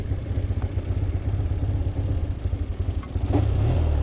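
A 1978 Triumph Bonneville T140V motorcycle engine idles low and steady nearby, its even rapid pulsing continuing throughout, with a slight rise in revs near the end.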